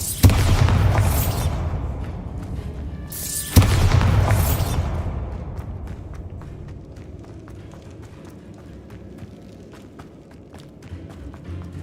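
Bombarda blasting spell in the Hogwarts Legacy game: two loud booming explosions a few seconds apart, each with a deep rumbling tail that fades into quieter ambient game sound.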